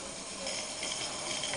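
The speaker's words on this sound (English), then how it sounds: "That's just about to blow the steam safety valve." A steam safety valve on a garden railway steam locomotive hisses steadily, a broad continuous hiss that is close and moderately loud.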